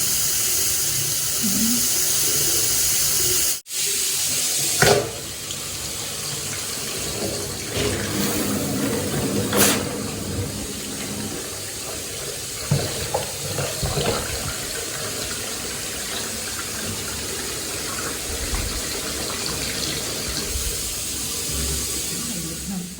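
Water pours steadily from an opened tap, a continuous broadband rush that lasts over twenty seconds with small shifts in level.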